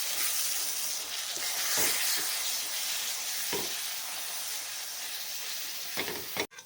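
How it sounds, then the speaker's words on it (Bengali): Spices with salt sautéing in a pan for mutton kala bhuna, a steady close sizzle and hiss broken by occasional spoon scrapes, ending with a sharp clatter. "এবার খুব ভালো করে কষিয়ে নিতে হবে"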